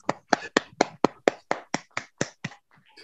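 Club members clap their hands in a steady run of about eleven sharp, close claps at an even pace, then stop, with no talking.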